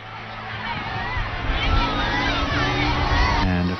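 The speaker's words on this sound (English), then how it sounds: "the Holy Father is moving amongst the crowd and stopping from time to time to speak with some individuals" Large crowd in Thailand greeting Pope Francis, a steady roar of cheering and excited voices with children shouting, close and loud throughout while talk mingles in the babble.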